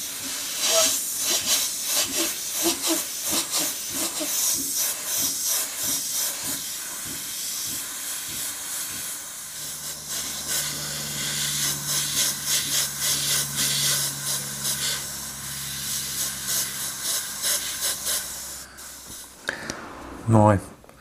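An airbrush sprays paint over a stencil in a loose random pattern, giving a steady, close hiss with rapid pulsing bursts, then a lower droning tone and a brief louder knock near the end.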